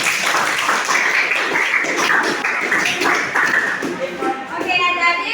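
A class of students claps in dense, brief applause that tapers off after a few seconds, with a bit of chatter mixed in, in a school classroom.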